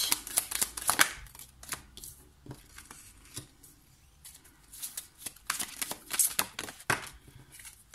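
Tarot cards shuffled by hand before a reading, quick irregular papery riffles and taps, close and soft, in bursts separated by brief pauses.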